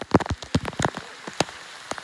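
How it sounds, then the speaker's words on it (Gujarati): Heavy rain falls on Girnar mountain near Junagadh, heard as close, irregular drops smacking a nearby surface in sharp, uneven taps of varying loudness over a soft, steady hiss, with no voices. "વરસાદ છે બહુ દુનિયાનો"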